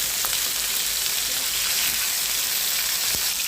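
Surma fish frying in hot oil, a steady close sizzle and crackle with a couple of sharper pops, no voices over it.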